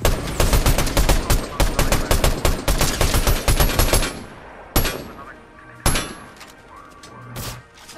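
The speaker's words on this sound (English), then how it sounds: "There's a gunfire around" Rapid bursts of Fortnite gunfire crackle continuously for about four seconds, then a few isolated loud shots ring out with quieter gaps between them.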